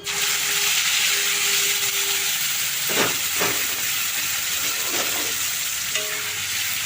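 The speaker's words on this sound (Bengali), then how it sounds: "রসুন বাটাটা দিলাম ওটা একটু ভেজে নিচ্ছি" Garlic paste frying in a pan while a meat curry is being cooked, a steady close sizzling hiss throughout with a few brief clinks and scrapes partway through.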